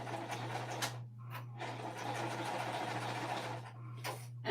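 A sewing machine with a regular presser foot stitches fluffy fabric, its steady motor hum running throughout with short louder bursts of stitching near the start and end.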